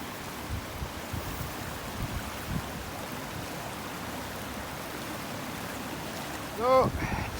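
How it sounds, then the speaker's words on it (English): Floodwater rushes through newly formed streams across a flooded floodplain, a steady, moderately faint churning wash with no break. "That water's really boiling away now."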